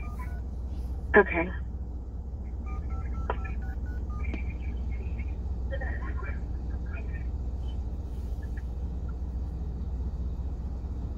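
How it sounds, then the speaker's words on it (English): A phone keypad dials in a car, with a short run of touch-tone beeps followed by a few scattered single tones over a steady low engine rumble; a person speaks briefly. "I just dialed it"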